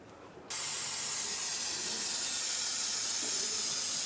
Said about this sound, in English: you can just clean this up with some brake parts cleaner